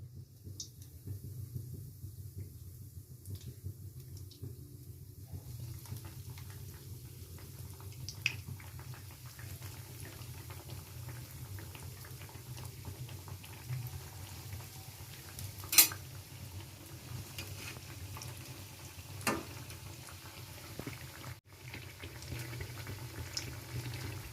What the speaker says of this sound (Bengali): তেলটা আমার গরম হয়ে গেছে, এবার আমি একটা করে দিয়ে দেবো।